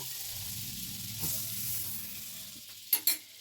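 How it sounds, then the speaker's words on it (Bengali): Pav bread toasting in butter on a flat tawa gives a soft, steady sizzle up close, followed near the end by a few sharp clinks and scrapes from a utensil. "পাউটাকে আমি একটু সেঁকে নেব একটু বাটা দিয়ে দিলাম তাওয়ার মধ্যে"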